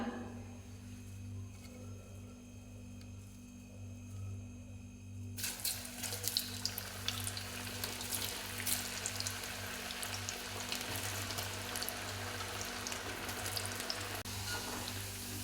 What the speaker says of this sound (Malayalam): നമുക്ക് ബാക്കിയുള്ളതും കൂടി വറുത്ത് കോരിയെടുക്കാം